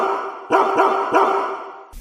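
A dog barks three times in a quick, loud, close sequence, with short gaps between each bark, heard alone without talk.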